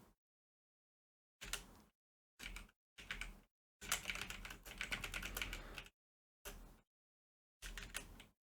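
Short notes typed on a computer keyboard: quick bursts of close key clicks, with one longer run in the middle, separated by stretches of silence.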